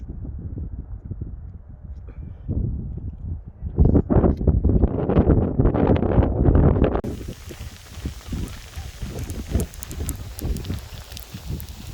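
Strong wind in cold, rainy Ireland buffeting the microphone in heavy, rumbling gusts that swell loudest midway, then ease to a steadier blustery roar.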